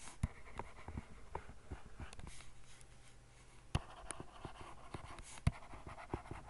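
Pseudocode being written by hand with a pen or pencil: faint, quiet scratching broken by scattered light taps and clicks, with no one speaking.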